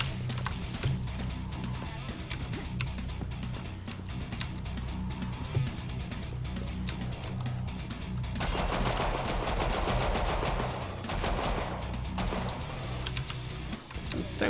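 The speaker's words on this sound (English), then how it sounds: "Don't fucking shoot your shotgun at me" Rapid gunfire from a video game, shotgun blasts mixed with a dense stream of shots in steady volleys under background music, loud and close, with a brief voice in the mix.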